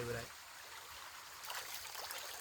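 A small stream of water flows past a rice field, a continuous soft rushing that swells slightly midway, while a person talks over it.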